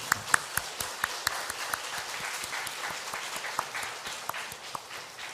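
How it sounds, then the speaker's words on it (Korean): Church congregation applauding during a Sunday service, a fairly quiet, steady patter of many hands with a few sharper individual claps standing out. "영광의 박수를 드리고 싶습니다."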